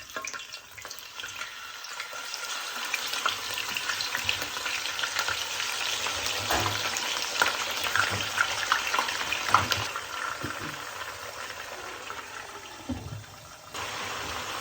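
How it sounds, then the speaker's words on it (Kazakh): Lamb rib meat sizzles and fries in a kazan, a steady broadband crackle that builds and stays loud throughout, with scattered stirring clatters and sharper spatters; no voices. "Енді осының үстіне жаңағы қабырғадан етімізді салып қуырамыз."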